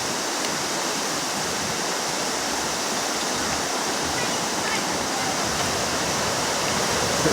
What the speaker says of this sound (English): There's the creek just going.